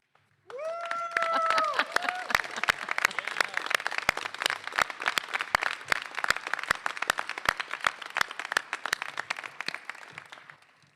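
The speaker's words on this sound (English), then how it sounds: "I'd like you to give them a big round of applause" Graduates at a College of Engineering commencement applaud the audience: a large crowd claps steadily and densely for about ten seconds, opening with a brief voice or cheer before the clapping settles into a sustained roar.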